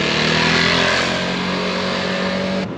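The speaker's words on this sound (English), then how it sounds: "I forgot to mention that there is always a ton of traffic here, no matter the time of the day." Street traffic in the Chiaia neighborhood of Naples, Italy: cars and motorcycles rev and pass close by in a loud, continuous engine roar that eases slightly toward the end.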